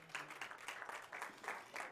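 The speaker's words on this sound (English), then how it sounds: "The reason they're not clapping louder" A church audience claps quietly and briefly, giving scattered, soft, uneven applause that comes in a few faint waves at a distance.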